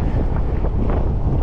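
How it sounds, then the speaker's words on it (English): Strong wind gusting around 25 over a lake buffets the microphone in a loud, continuous roar with deep rumble, heard from a small canoe on rough water. "Wind is blowing really hard."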